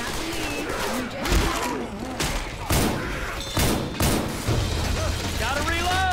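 In the zombie game Left 4 Dead 2, gunfire comes in sharp separate blasts spaced a second or so apart, mixed with mechanical clicks. Voices and game chatter continue between the shots.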